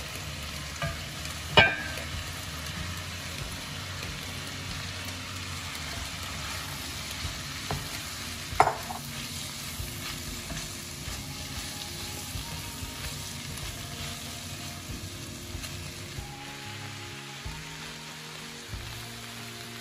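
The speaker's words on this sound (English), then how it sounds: "My vegetables have been frying for a few minutes" Vegetables, including cabbage, sizzle and crackle steadily as they stir-fry in a hot pan, with a couple of sharp clanks from stirring; no talking.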